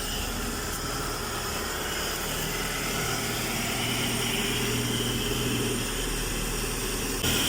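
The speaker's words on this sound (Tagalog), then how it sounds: "napay-start na ni Gabi after ma-tune up." A carbureted 4G13 engine in a Mitsubishi Lancer runs steadily after a tune-up, a continuous close idle drone with a light buzzing edge and no talking.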